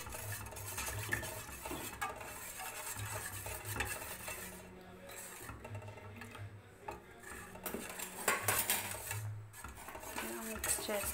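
Ragi malt being stirred in a pot with a spoon, with brown sugar added, giving steady scraping and clinking of utensil against the pot throughout, close and continuous, with no talking.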